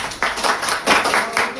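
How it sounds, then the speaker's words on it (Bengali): A group of people in a class clap together in short bursts of applause, several uneven waves of hand claps close by that rise and fall over under two seconds. "এটা হাততালি দেন।"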